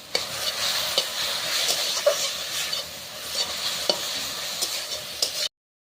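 Sattu being stirred with salt and oil in a wok, a steady close sizzle broken by regular scraping knocks of the spatula against the metal, with no speech before it cuts off abruptly.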